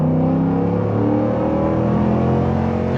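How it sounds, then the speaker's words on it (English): A heavy Ford F-150 pickup with a 5-liter Coyote V8 accelerates hard, its engine a loud, steady, rising roar heard up close without a break. "There's that 5-liter Coyote"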